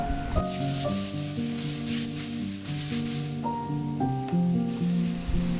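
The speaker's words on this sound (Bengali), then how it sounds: "এবার সবগুলো উপকরণ একসাথে ভালো মতন কষিয়ে নিব" Ginger-garlic paste, ground coriander and spices for a pumpkin shrimp curry fry in a pan. A soft, steady sizzle runs beneath louder melodic background music, with no speech.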